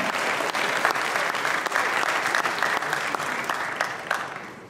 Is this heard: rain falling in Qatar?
no